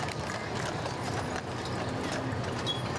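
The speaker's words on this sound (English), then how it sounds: "With his horses and his equipment." Horses clip-clopping along the street in a firemen's parade for a town's 150th anniversary, hooves blending into steady crowd and street noise at a moderate distance.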